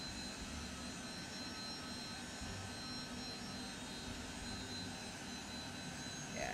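The jet engines of a Lockheed Jetstar taxiing in Microsoft Flight Simulator give a steady, faint broadband whine and roar that holds evenly throughout, with no talk.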